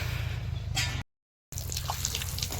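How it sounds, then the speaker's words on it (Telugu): Running water trickles close by as hands are washed outdoors in a mango orchard, cuts to silence for half a second, then keeps splashing and dribbling. "ఇక్కడ హ్యాండ్ వాష్ చేసుకుందాం"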